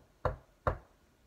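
Two soft knocks on a door, evenly spaced about half a second apart, sound against a quiet background with no talking.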